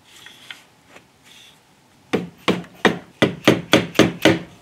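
Wooden flintlock muzzleloader stock from a Kibler Woodsrunner kit takes eight sharp, evenly spaced taps as the barrel is seated, close and fairly loud, following a couple of faint knocks.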